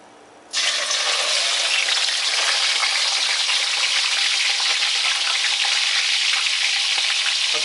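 Fish for escabeche dropped into hot oil, starting with a sudden loud hiss and then sizzling steadily and densely, close up with no talking.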